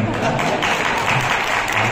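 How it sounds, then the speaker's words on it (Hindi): Audience at a special screening of Anupam Kher's film Uunchai clapping for him, a dense, steady wash of applause filling the whole stretch with faint crowd murmur mixed in. "बट बेटा ऐसी ताली मारते रहना मेरे लिए हमेशा।"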